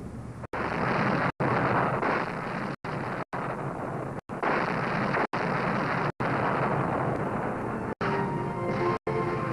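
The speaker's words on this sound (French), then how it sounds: "Vient le pilonnage du mur de l'Atlantique." Bombardment of the Atlantic Wall on the Cotentin coast in 1944, a continuous heavy roaring rumble of explosions, loud and dense, broken by brief sharp gaps of silence.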